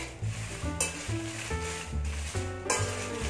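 Sambar powder spices dry roast in a hot pan on low heat, a continuous gentle crackle with stirring scrapes and a couple of sharp clinks of a spoon on metal.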